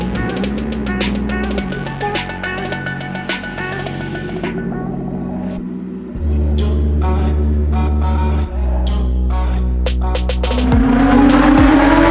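Hand-built mid-engine VR6 go kart with a widebody Renault body, its engine droning and rising through gear changes, loud and close, with a sharp revving surge near the end and no speech.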